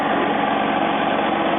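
A 2002 Mazda Tribute engine idles smoothly after a starter replacement, a loud, steady close hum with a constant low drone and no talking.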